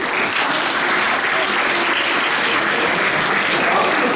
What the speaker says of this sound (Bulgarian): Катя, аплодисменти за Катя